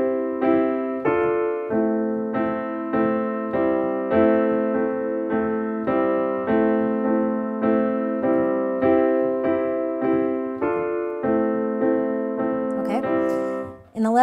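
A piano plays the chords of a song, with steady, evenly spaced chord strikes ringing out one after another at moderate volume, ending in a brief noise.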